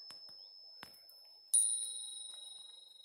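Handmade bells ring out with bright metallic tones, a few soft faint strikes first, then one louder clear strike whose tone hangs and slowly decays.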